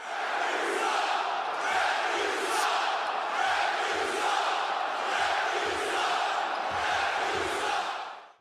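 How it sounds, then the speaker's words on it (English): A hockey arena crowd at a Carolina Hurricanes at Montreal Canadiens playoff game chants loudly in a sustained, rhythmic roar, dense and continuous with faint thumps underneath. "The crowd was just chanting, so I figured we'd join in with them."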